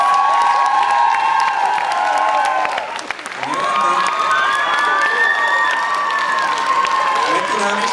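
A cinema audience in Topoľčany cheers and applauds after a wedding-themed dance choreography, loud crowd noise with shouting and high voices filling the room throughout, a brief dip midway before it swells again.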